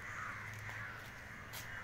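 A flock of crows at sunset near Kailasagiri hill in Vizag caws in a continuous, distant-sounding chorus, with a couple of brief brighter calls rising above the low steady hum.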